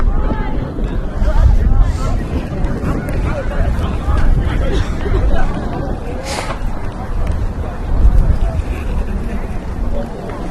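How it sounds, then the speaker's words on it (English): Strong wind buffeting the microphone at an outdoor race, a loud, gusty rumble that surges and dips across the whole stretch while a voice talks over it. "Yeah, wind's really picking up."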